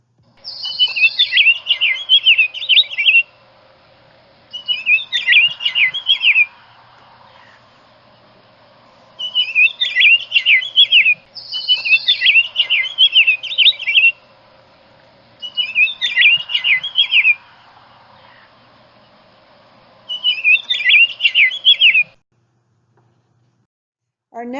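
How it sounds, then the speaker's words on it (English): A tanager sings repeated bursts of bright, burry chirping phrases, about six song bouts spaced by short pauses, loud and close against a faint background hum. "Here's what a tanager sounds like."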